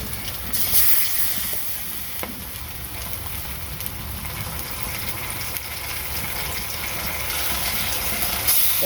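Malabar spinach leaf fritters fry in hot oil, giving off a loud, steady sizzle and hiss that runs without a break from start to finish.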